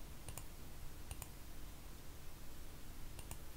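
A computer mouse clicks in quick double pairs, three times at regular spacing, small and close over a steady hum of background noise.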